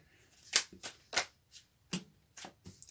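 Oracle cards are handled quietly up close, giving a few separate soft snaps and flicks spaced irregularly apart.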